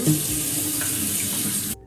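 Lukewarm water running steadily from a bathroom tap into a sink, a close, continuous gushing stream that cuts off abruptly near the end.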